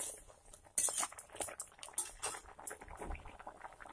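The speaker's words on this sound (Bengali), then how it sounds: "শাকটা ফুটছে," Jute leaves boil in water in a wok, a faint bubbling and simmering with light clinks of utensils against the pan, no voices.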